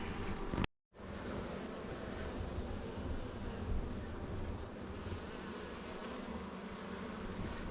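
A thick swarm of honeybees hums around a hive during a spring inspection, the buzz cutting out briefly near the start, then returning as a constant, close drone.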